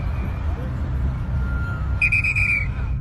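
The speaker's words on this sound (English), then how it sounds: "She turns back to the street and starts blowing on her whistle and waving her flag." A traffic officer on a street blows a shrill whistle once, a sustained blast of under a second, near the end over a steady background of traffic rumble.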